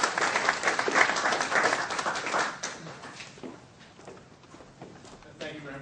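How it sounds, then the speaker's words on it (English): An audience applauds to welcome a speaker at a talk on Social Security. Loud, dense clapping fades over several seconds to scattered claps, and a voice comes in near the end. "I'm not used to getting claps before I get up and speak."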